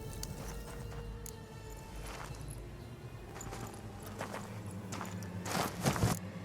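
A horse in The Witcher 3 clip-clops at a walking pace, its hoof strikes soft and irregular under a low ambient drone, growing slightly louder and more clustered toward the end.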